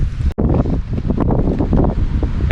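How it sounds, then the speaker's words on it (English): Strong wind buffeting the microphone of a GoPro Hero 8 Black on a trail, a loud, rumbling, roaring blast of gusts that fills the clip, with one momentary dropout near the start. "the wind is just blowing directly onto the camera"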